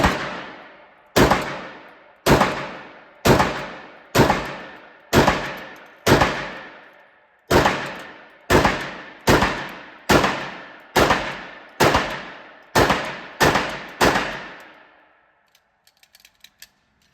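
Pistol shots from an Atlas Artemis at a shooting range, about fifteen loud, sharp reports fired singly at a steady pace of roughly one per second, each trailing off with a short echo, then a few faint clinks.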